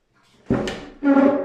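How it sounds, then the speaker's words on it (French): A stiff wooden drawer on an old, blistered piece of salvaged furniture scrapes open or shut in two rough, sliding pushes, close and fairly loud, with a short pause between them. "le tiroir il est un peu dur à ouvrir ou à fermer"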